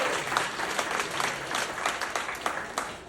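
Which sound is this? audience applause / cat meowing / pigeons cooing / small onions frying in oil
audience applause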